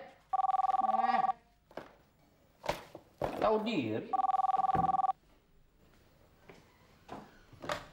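A telephone rings at night in two long electronic bursts of ringing, loud and close, with a man's grumbling speech and household thumps between the rings.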